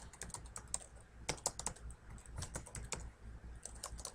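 Rapid, uneven keystrokes clatter on a computer keyboard, close and moderately quiet, in bursts with brief pauses.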